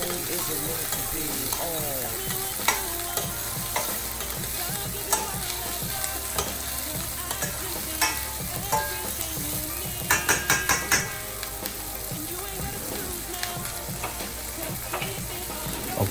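Meat renders and fries in a pot for a Southern-style greens and black-eyed peas dish, making a steady close sizzle with intermittent clicks, clatter and stirring scrapes, including a quick burst of rattling midway.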